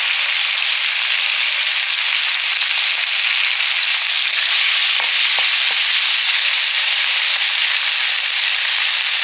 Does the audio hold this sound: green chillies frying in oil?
yes